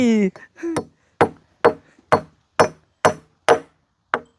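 Nails are driven by hand while a temporary hut is built, heard as eight sharp, evenly spaced hammer blows close by, ringing briefly after a short spoken exclamation at the start.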